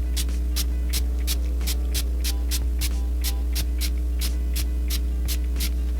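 Rose gold skin mist is sprayed onto a face in a rapid, regular series of short, close hissing bursts over a loud, steady electrical hum.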